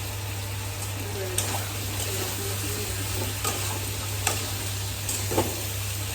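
Fish frying in hot oil in a pan while being stirred and turned, a steady sizzle with scattered scraping clicks of the utensil, a low steady hum underneath, and soft talk intermittently present.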